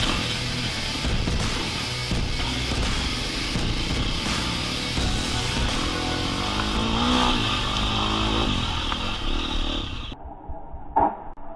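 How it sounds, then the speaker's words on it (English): A KTM 350 SFX four-stroke dirt bike engine runs loud and steady with the rear brake slammed hard, then abruptly cuts out as the motor stalls, leaving near silence with a brief faint blip after. "when you slam on that rear brake, it's going to slow that motor down a lot. And when you do so, you can actually stall the bike, which is exactly what I did there"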